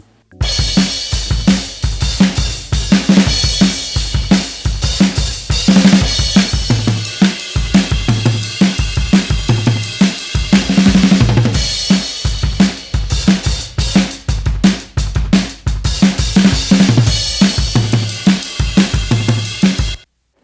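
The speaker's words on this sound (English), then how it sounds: "so the drums sound like this" A full drum pattern plays continuously, punchy kicks and snares under bright, busy cymbals in a steady driving groove.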